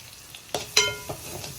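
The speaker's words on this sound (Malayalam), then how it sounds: "പറ്റൽ മുളക് ചതച്ചത് ചേർത്തിട്ടുണ്ട് അതൊന്ന് വഴന്ന് വരട്ടെ" Crushed dried chilli sautéing in a pan for a Kollam-style clam stir-fry, giving a few sharp crackling bursts and soft sizzles close up, with no talking.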